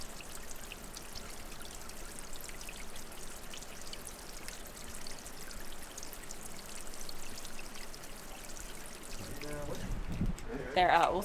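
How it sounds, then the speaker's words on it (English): Water runs along a levada irrigation channel on a Madeira mountain hike, a steady close trickling and gurgle that swells slightly near the end as other sounds intrude. "all you can hear is the water going through the Levadas"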